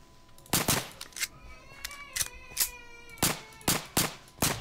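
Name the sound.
gun firing in Minecraft video game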